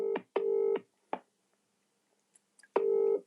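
Telephone keypad tones: three short dialing beeps in quick succession, a pause with faint clicks, then one longer tone, clean and close with no talking.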